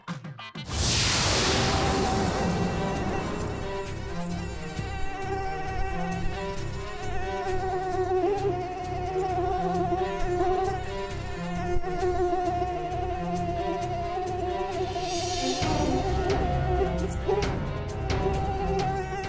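A shrill, sustained mosquito whine from a Hindi mythological TV drama rings out loud and close for nearly the whole stretch, swelling sharply at the start and again near the end over a steady rhythmic musical backing.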